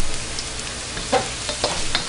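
Onions fry in a pan until golden brown, giving a steady crackling sizzle with occasional stirring scrapes, close and moderately loud.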